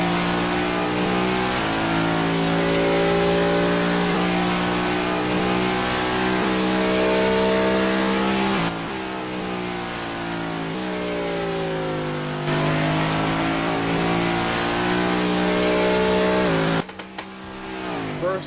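Race car engine in a racing video game's qualifying lap, a loud sustained whine that rises and falls through gear shifts, with brief drops and a sharp change near the end.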